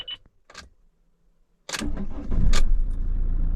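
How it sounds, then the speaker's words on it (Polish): After a long standstill, a car engine is cranked and starts with a loud catch, then settles into a steady close idle following a few clicks and key sounds. "No i zobaczmy, czy odpali, bo to aż sam jestem ciekaw po takim postoju"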